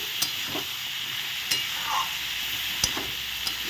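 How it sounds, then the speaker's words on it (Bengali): A spoon stirs mixed vegetables with turmeric and salt in a sizzling pan, a continuous close fry broken by a few sharp scrapes and clinks against the pan. "হলুদ লবণ হলুদ দিয়ে ভালো করে নেড়ে দিচ্ছি"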